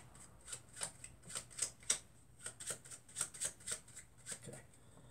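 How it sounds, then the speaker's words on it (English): A packet of playing cards is mixed in a series of soft, rhythmic riffling flicks, faint and close, spaced roughly every half second. "give it one more shuffle"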